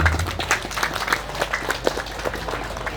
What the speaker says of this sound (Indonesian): Beri tepuk tangan buat Muhammad.